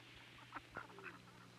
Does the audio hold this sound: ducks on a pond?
yes